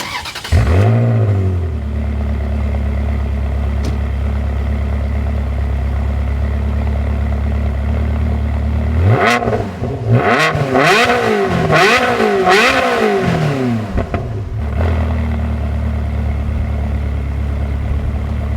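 A Ferrari 360 engine idles with a deep burble, then revs up sharply several times in quick rising and falling bursts before settling back to idle.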